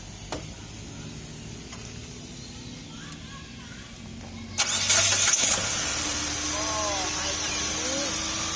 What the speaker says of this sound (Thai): เดี๋ยวผมลองสตาร์ทให้ฟังนะ อะสตาร์ทมา